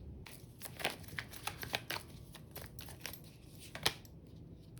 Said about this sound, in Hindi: कार्ड्स गिर गए, 1 मिनट।